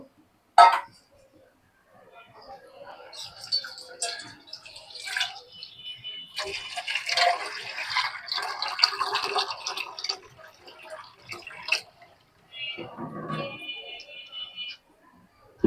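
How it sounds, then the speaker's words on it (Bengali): Water poured into a cooking pot of chicken curry with moong and masoor lentils, a splashing, gurgling pour in a few bursts of several seconds, with a brief sharp clatter near the start. "আমি এখন পানি দিয়ে দেবো।"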